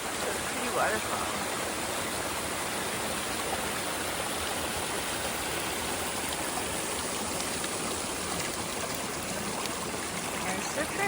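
A waterfall on the Appalachian Trail in the Great Smoky Mountains near the Pigeon River: a steady, full rush of falling water, loud and close, continuous for the whole stretch with no talk.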